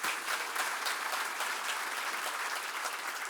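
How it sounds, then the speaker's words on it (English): An audience at the 2022 Sun Devil Athletics Hall of Fame induction ceremony applauds in a steady, full wash of clapping that holds at even loudness throughout, with no talk. "Let's give a round of applause for everybody."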